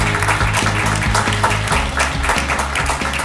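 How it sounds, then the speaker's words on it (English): Graduation ceremony applause from graduates standing to thank their families, clapping heard over steady, rhythmic background music with a low repeating bass pattern. "thank your family members with a warm, fighting Irish round of applause"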